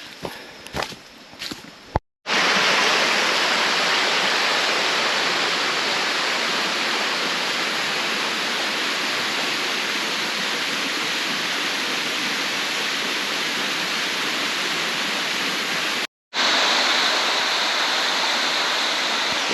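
Large waterfall in an old African primary forest, a loud, steady broadband roar of falling water that fills the scene nearly continuously, briefly cut off near the start and again toward the end, with no voices.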